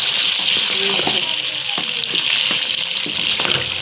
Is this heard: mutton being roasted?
yes